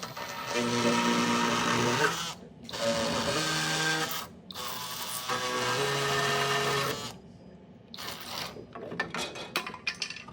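An oscillating multi-tool cuts through the wooden holding tabs on a CNC-machined board. Several loud, high buzzing bursts are separated by short pauses, and lighter intermittent tool noise follows.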